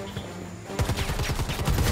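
Rapid bursts of gunfire in the Predator: Hunting Grounds video game, a dense fusillade of close, repeated shots starting after a brief quieter moment and continuing steadily to the end.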